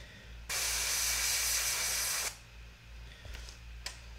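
An airbrush sprays Metal Master paint through a rivet stencil in one steady loud hiss lasting about two seconds, followed by a quieter hum and two short faint puffs.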